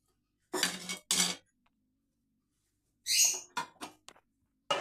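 A spoon stirs jobdana, a sweet barley-pearl dish, in a metal pan, making short separated bursts of scraping and clinking with near silence between them.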